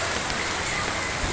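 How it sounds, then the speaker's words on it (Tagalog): Heavy rain pours steadily during Typhoon Kristine in a flooded village neighborhood, a dense, continuous hiss of downpour close by with no voices. "halos na lumalakas pa rin ang ulan dito ngayon sa Pinagsama Village"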